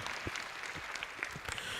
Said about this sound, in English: And a round of applause to him, please.